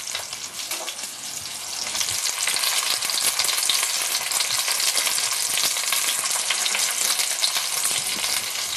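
Pork loin searing in a hot pan, a loud, steady sizzle and crackle of frying that swells slightly after the first couple of seconds and continues unbroken, with no talking.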